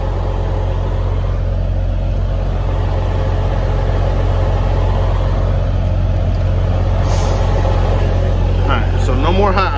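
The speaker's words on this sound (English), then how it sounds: "let's stop the truck from idling high" A truck engine running at high idle, a loud, steady drone that holds unbroken throughout, with some faint higher noises near the end.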